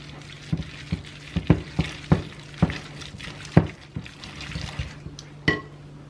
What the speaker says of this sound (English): I'm going to go ahead and mix this all up